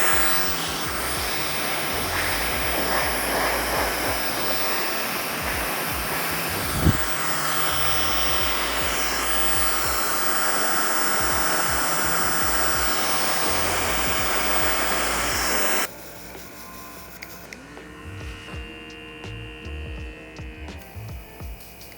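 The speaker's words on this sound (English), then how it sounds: "Blow dryer, very low speed, and lay down that frizz." A blow dryer runs on very low speed while drying hair, a steady close whooshing hum that holds evenly and then cuts off abruptly, leaving a quiet room.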